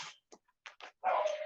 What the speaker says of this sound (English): Sorry about my dog Buster.